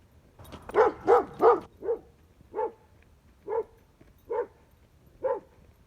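A dog barks in a quick burst of three, then gives single, spaced barks at a steady pace, fairly close and clear with no talking.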